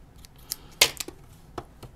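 Scissors snipping thread ends on a handmade doll dress, a few quiet close crisp snips spread over two seconds with faint handling noise between them.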